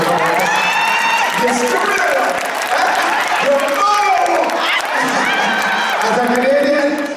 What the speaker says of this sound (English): So give me a round of applause.